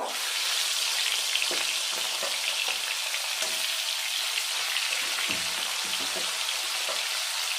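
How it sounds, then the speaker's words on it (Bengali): Pieces of shol (snakehead) fish, rubbed with salt and turmeric, fry in hot oil in a kadai. The sizzle is steady, bright and crackling, close up and without talk. "মাছগুলো ভালো করে ভেজে নিয়েছি তুলে নেব"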